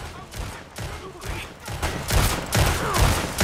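Gunfire in the Red Dead Online video game, a loud fusillade of several overlapping shots in quick bursts, growing heavier toward the end.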